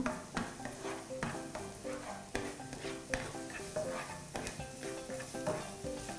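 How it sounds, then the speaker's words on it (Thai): Chopped garlic stir-fried in a pan over medium heat for shrimp with chilli and salt, a constant sizzle broken by rhythmic scraping strokes of a utensil against the pan, close and alone. "เราก็จะผัดกระเทียมนะคะ ให้มีกลิ่นหอม"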